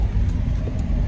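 A Freightliner truck's engine rumbles low and steady while driving, with dogs riding in the cab; the drone is continuous and close over the short stretch.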